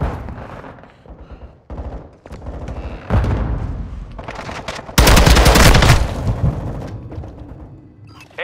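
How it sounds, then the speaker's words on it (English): A flash grenade goes off in a Call of Duty Modern Warfare II multiplayer match: a loud, sharp broadband blast bursts out after scattered gunfire and thuds, then fades over a second or so. "Throwing flash grenade!"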